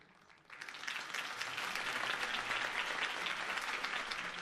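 Crowd applause in a Batman Telltale video game scene after Harvey Dent's campaign speech, steady dense clapping that swells in after a brief quiet start and holds for several seconds.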